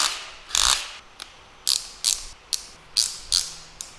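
Electric screwdriver on a low clutch setting driving a screw while assembling a mining rig frame, sharp ratcheting clutch clicks in short uneven bursts, about nine snaps close up with quiet gaps between.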